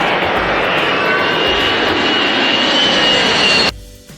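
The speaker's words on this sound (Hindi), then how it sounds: "ये देखो बच्चों, ये है फाइटर जेट। हिंदी में इसे लड़ाकू विमान कहते हैं।" Fighter jet engine roaring loud and steady for about three and a half seconds, a sustained broadband jet rush with a faint whine, cutting off abruptly near the end.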